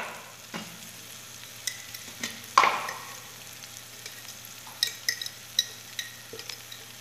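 Spiced filling seasoned with cinnamon and salt fries in a pan, giving a faint, low sizzle broken by occasional clinks and one sharp metallic knock of a utensil against cookware.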